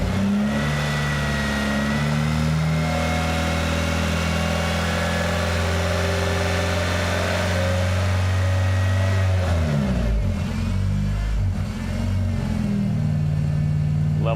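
Honda car engine idling close by after revving, a steady low hum that rises and wavers in pitch midway, then settles back to a smooth, even idle.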